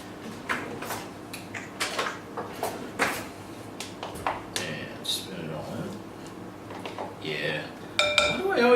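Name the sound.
bowl and utensils handled while mixing cottage cheese for lasagna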